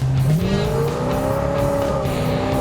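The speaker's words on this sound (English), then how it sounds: "Me and Royal are about to race this wonderful Coronet" A Dodge Coronet race car accelerating hard, its engine note climbing steadily in pitch as it pulls away, loud and close throughout with a brief squeal of tires near the start and no talking.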